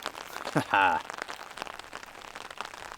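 Steady rain patters on a tarp shelter during a thunderstorm at a solo camp, a continuous soft hiss and crackle with a voice briefly heard over it.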